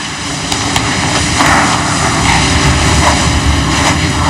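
Loud, steady roar of an airplane engine with a constant droning hum, filling the whole clip without pause.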